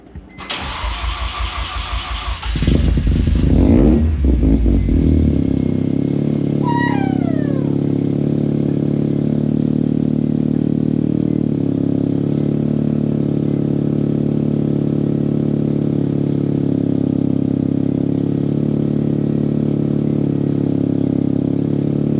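Rotary engine of a Mazda RX-7 FD cranks over with a loud starter whir for a few seconds, catches and revs, then settles into a steady, close, droning idle with a brief squeal partway through.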